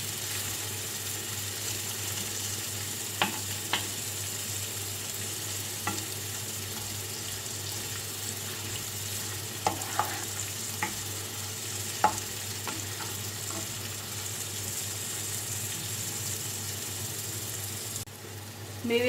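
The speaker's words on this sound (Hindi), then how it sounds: "इसको हमें बस इतना फ्राई करना है कि इसमें अच्छी से खुशबू आने लगे।" Mixed dry fruits frying in ghee for sheer khurma, a low, even sizzle running throughout with occasional soft clinks and scrapes of a stirring spoon.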